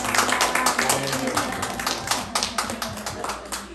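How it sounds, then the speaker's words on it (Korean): A church congregation claps in welcome during a Sunday worship service, steady dense applause from many hands filling the room, with a voice speaking over it. "우리 박수로 환영해 주시면 감사합니다"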